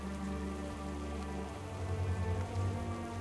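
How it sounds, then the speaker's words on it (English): Steady rain falling in World of Warcraft Dragonflight, a dense continuous hiss with a low rumbling bed that stays loud and even throughout, no voices present. "Looks like it's raining here too."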